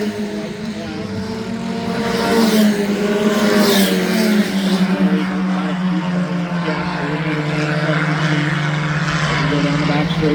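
Race cars on the final lap of a heat race at Adams County Speedway, a loud engine roar that rises and holds with a falling pitch as cars pass, heard beneath a track announcer's commentary.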